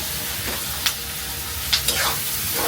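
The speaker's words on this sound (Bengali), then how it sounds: "আর এই ডিম ভাজতে তোমার তেল লাগে" Eggs and onion fry in oil in a pan with a constant, close sizzle, marked by a few sharp scrapes and clacks as the mixture is stirred.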